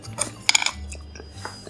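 A bite of spicy Samyang noodles with chicken nuggets is chewed close up, giving a few short crunchy, wet chews with brief pauses between them.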